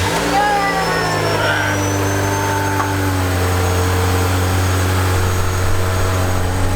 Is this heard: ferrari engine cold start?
yes